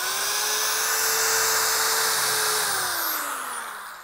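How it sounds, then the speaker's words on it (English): A power drill whines at high speed boring pilot holes for screws into wood, loud and close in one continuous run that winds down at the end. "now you want to do your pilot holes for your screws"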